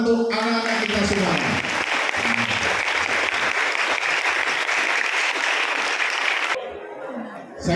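An audience at a school event for students applauds in a loud, sustained wash of clapping that stops abruptly near the end, with brief voices at the start.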